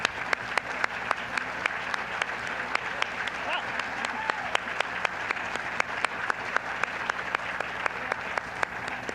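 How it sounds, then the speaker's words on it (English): Audience applause at a public safety forum in Minnesota, a sustained round of clapping from a seated crowd, with sharp, regularly spaced individual claps standing out near the mic over the general wash. "So let's give them a round of applause"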